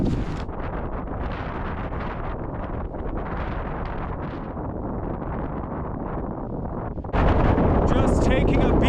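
Fierce winter wind on a mountain roars and buffets the microphone without letup, intensifying toward the end, while a voice is faintly present beneath the gusts.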